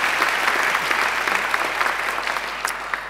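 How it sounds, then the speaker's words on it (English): A steady round of audience applause fills a graduation ceremony hall, dense and even, with no voices over it for its full three seconds. "I think she deserves another great round of applause"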